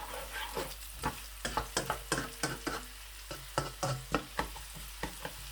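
Onions frying and being stirred in a pan as the base for a chicken gravy, with steady sizzling under repeated sharp scraping strokes of a spoon, close and fairly loud, no talking.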